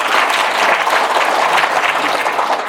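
Audience applause at a Korean Buddhist dharma gathering, a steady dense wash of many hands clapping, loud and close, with no talking.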